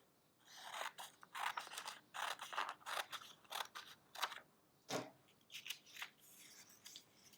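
Scissors snip through folded paper in a quick run of crisp, close cuts with short pauses between them, no talking.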